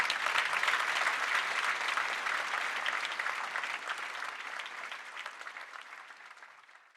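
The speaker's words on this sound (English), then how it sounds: "Let's go ahead and give them a round of applause for that responding." A forum audience applauds steadily, a dense wash of clapping from a large crowd that holds strong and then slowly fades toward the end, with no voices over it.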